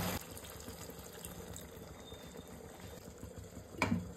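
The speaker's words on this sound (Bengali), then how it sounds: "এর মধ্যে একটুখানি জল দেবো, গরম জল।" Hot water is poured into a pan of coriander chicken curry. A steady, soft gush and bubbling continue throughout, ending with a brief louder clunk.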